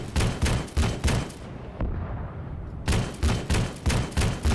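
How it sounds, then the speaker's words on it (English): Rapid bursts of infantry gunfire in Arma 3, sharp repeated shots in quick clusters, pausing briefly before another volley of evenly spaced reports, loud and close with no talk. "Yeah, see, I can shoot their infantry"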